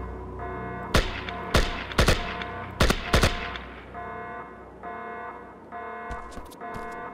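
In the video game Project IGI, an alarm drones as a steady, buzzing electronic tone that persists throughout, punctuated by several sharp, loud gunshots in quick clusters.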